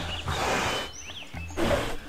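A bear roars during an outdoor standoff in a comedy sketch, with loud broad growling bursts near the start and again toward the end and a quieter gap between them.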